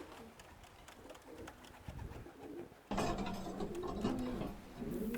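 Pigeons coo and flutter near a racing loft while a racing bird returns home, with clicking and ratcheting of the loft's trap mechanism; the sounds grow louder and busier partway through.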